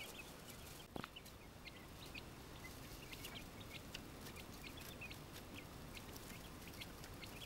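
Three-week-old quail chicks chirp in short, high, scattered peeps over a steady low background hiss, fairly faint and with no talking.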